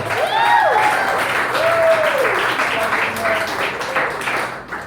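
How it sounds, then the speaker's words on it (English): Comedy club audience applauding at a comedy night, a dense burst of clapping with a few cheers that carries on for several seconds while a voice talks over it. "Round of applause for you guys and everybody making that happen."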